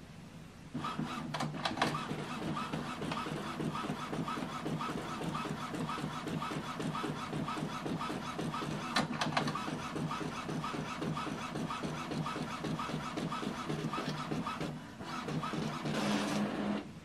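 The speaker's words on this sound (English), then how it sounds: "So now this printer is going to print status sheet." An Epson WF-M4119DW printer prints a status sheet, its mechanism whirring and rasping with rhythmic clicks and a brief pause before the feed resumes.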